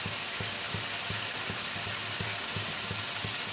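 Spices frying for a homestyle Bengali potato curry (aloo dum), a steady broad sizzle with rhythmic low scraping of a spatula against the pan, close and continuous, no voices.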